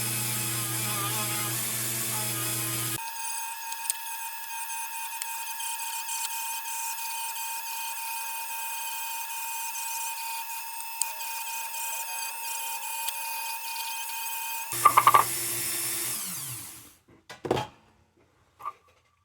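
A rotary tool fitted with a nylon abrasive bit scrubs rust from a STAR railroad inspector lantern, a steady high whine with faint rubbing and a few brief clicks, then winding down near the end.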